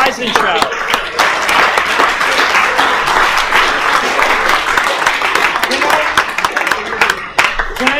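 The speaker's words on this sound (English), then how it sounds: "I'd like to give a great big round of applause to Peter" Audience applause after a PostgreSQL conference talk, loud, dense clapping filling the whole stretch, with crowd voices mixed in.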